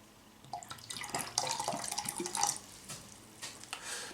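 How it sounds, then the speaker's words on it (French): Water is added to a homemade Nuka Cola Quantum mixture, with a few seconds of close, light splashing and trickling that come in uneven bursts. "On va remettre un peu d'eau"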